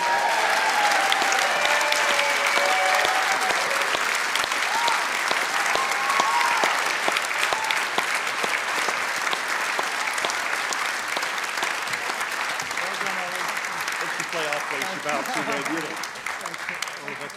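Sustained audience applause at the UK Blues Awards 2025 greets the winner of Acoustic Blues Act of the Year, with steady dense clapping throughout and some voices and musical tones mixed underneath.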